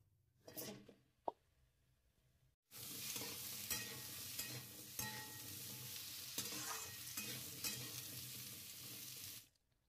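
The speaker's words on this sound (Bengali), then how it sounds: "তেলের মধ্যে আমি আলুগুলো ভেজে নিই।" Potato pieces fry in hot oil in a pan after fish has been fried, giving a loud, close, continuous sizzle with occasional stirring scrapes, after a few brief clatters.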